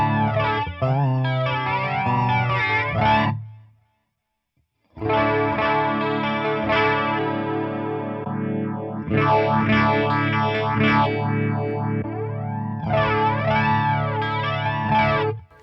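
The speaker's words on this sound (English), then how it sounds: "So you can hear we have different courses and flangers in there." Guitar played through a budget amp's modulation section, switching between chorus and flanger settings. The shimmering, sweeping tones come in several loud strummed phrases, with a short silent gap near the start and no talking.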